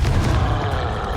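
A Confringo fire spell blasts in Hogwarts Legacy: a loud, sustained low boom and rumble that rolls on steadily for about a second.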